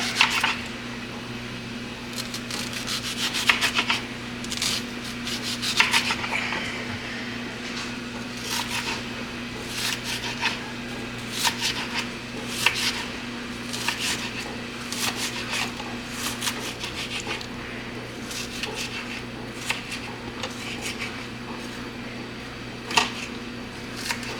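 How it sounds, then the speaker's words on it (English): Knife slicing an onion on a cutting board for a homemade spaghetti sauce, heard as steady, close, crisp chopping taps at an irregular quick rhythm over a low kitchen hum. "Slice the onion up"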